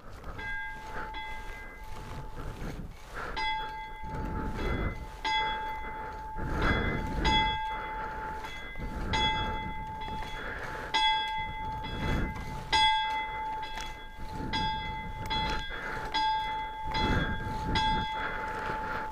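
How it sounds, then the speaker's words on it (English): A ringing bell sounds at a motorcycle memorial ride in North Wales, struck repeatedly in a slow, regular rhythm, each bright metallic tone ringing on over a low background rumble. "Let's get this bell."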